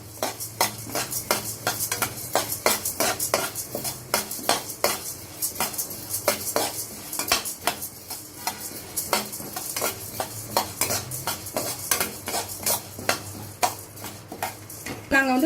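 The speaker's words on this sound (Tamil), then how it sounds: "புழுங்கல் அரிசி ஒரு இரநூறு கிராம் வறுக்கணும் நல்லா பொரிய விட்டு வறுக்கணும்" Parboiled rice dry-roasting in a pan, about 200 grams, with a utensil scraping and stirring it in quick, steady, repeated strokes over a faint sizzle, close and continuous with no talk.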